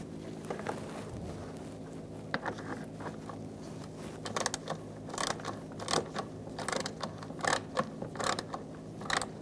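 A bolt is turned to secure a fog light on a 2014-2018 Subaru Forester, giving an irregular series of close, sharp mechanical clicks and ratchet-like ticks over a low steady hum, growing busier in the second half.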